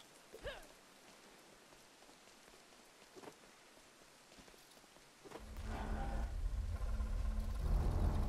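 Rain falls in the video game Young Souls, a faint patter at first that swells into a louder, fuller downpour near the end, with a few soft thuds along the way.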